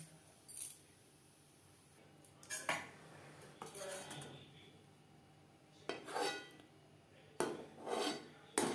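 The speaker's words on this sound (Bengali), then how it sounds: "পরিমাণ মতো জল আমি গরম করে নিয়েছি। এবার দিয়ে দেব মুগ ডাল।" Moong dal lentils tipped into a pot of heated water, heard as several separate metallic clinks and scrapes of utensils against the pot, spaced out with quiet gaps between them.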